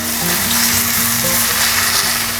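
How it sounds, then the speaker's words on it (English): Lo mein noodles tossed and stir-fried in a hot pan make a loud, continuous sizzle with a steady churning stir from the bottom, close and dense throughout. "Let's give it a nice toss and stir from the bottom."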